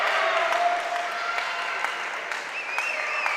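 Applause ripples steadily through the crowd at a Serie A1 men's table tennis match in Sardinia, continuous clapping with a faint voice over it.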